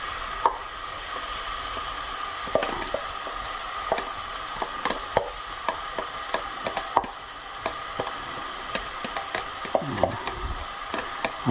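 Chopped onion fries in a pan for a home curry, a soft steady sizzle with scattered clicks and scrapes of stirring, close but fairly quiet, with no talking.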